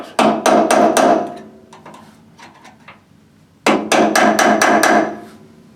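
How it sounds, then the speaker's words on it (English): Hammering on a part of a 1985 Chevy K10 truck during restoration: two bursts of four rapid, loud metallic blows each, close by, separated by a few lighter taps and clinks. "I have to beat on this a little bit"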